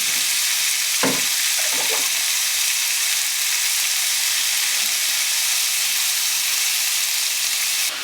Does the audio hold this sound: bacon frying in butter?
yes